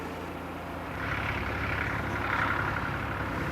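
A tractor engine runs steadily on a farm worked by nuns at Minster abbey, a low continuous rumble that grows slightly louder partway through, with no voices.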